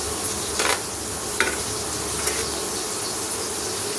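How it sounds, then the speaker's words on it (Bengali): Steady sizzle of a crisp layered snack made from flour and potato frying in hot oil, a continuous close bubbling hiss with a few faint clinks. "একটু সময় ও ধৈর্য সহকারে ভেজে নিতে হবে, তাহলে কিন্তু খাস্তা এবং মুচমুচে তৈরি হয়ে যাবে।"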